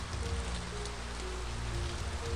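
Steady rain ambience from the video game Vampires Dawn 3, a dense continuous patter of drops on surfaces with a low rumbling bed, fairly quiet and even throughout, with no voices over it.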